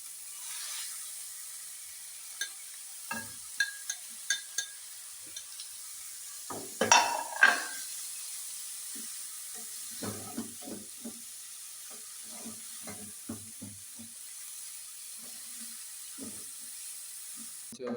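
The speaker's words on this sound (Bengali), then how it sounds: "পেঁপেটা নাড়াচাড়া হয়ে গেল" Papaya being stirred in a pan with cardamom and bay leaf over a lowered flame for papaya halwa, giving scattered soft scrapes and taps with a brief louder clatter, fairly quiet throughout.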